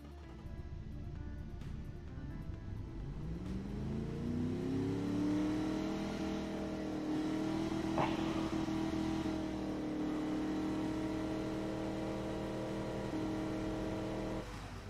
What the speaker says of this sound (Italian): Proviamo questo motore.